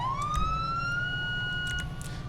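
A police car siren in the FiveM driving game sweeps upward in a long rising wail over a steady engine rumble, loud and close, fading slightly at the end.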